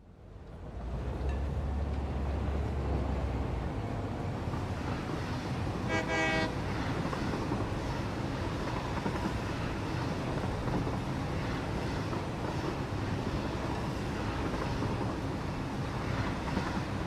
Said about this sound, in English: I'm driving the train, so nothing's going to go wrong.